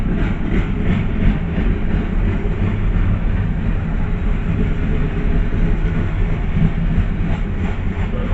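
A CSX coal train of 80 cars rolls steadily past on the Berkshire line, a continuous loud rumble of heavy wheels and rail noise with a low engine drone throughout.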